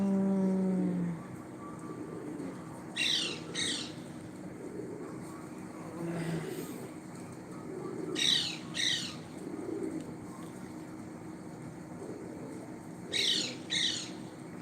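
Pigeons kept for pigeon-flying coo softly nearby, with sharp bursts of wing flapping recurring several times over a steady outdoor background.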